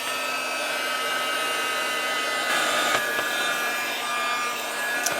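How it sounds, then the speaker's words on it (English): A heat gun drying paint on a craft project, a steady, loud blowing whoosh that runs unbroken throughout with slight swells, no voices. "I'm going to take out my heat gun and give that a dry so that we can keep on going."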